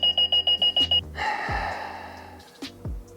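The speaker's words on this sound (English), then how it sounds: "I just set the alarm." An alarm clock beeps in a rapid burst of seven short, shrill pulses, then stops, followed by rustling and a couple of breathy sounds.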